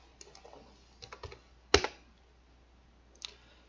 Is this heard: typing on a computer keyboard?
yes